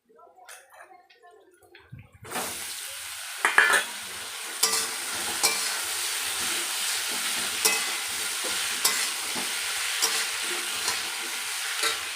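Egg pasta stirred and fried in a pan: after a quiet start, a loud continuous sizzle begins, punctuated by repeated clicks and scrapes of a utensil against the pan.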